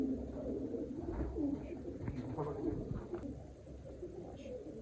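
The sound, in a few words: teddy pigeon cooing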